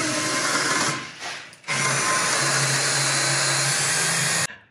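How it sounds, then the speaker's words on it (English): A power drill bores out the last of two metal brackets during a homebuilt bush plane project, whirring loud and close in a steady run that stops briefly and then resumes until it cuts off near the end. "Now I'm just drilling out the last of the two brackets"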